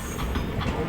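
At Dhekiajuli a train passes close by, a steady low rumble with faint clickety-clack rhythm of wagons on the rails.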